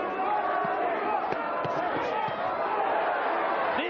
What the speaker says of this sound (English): Crowd trying to pick Arturo up.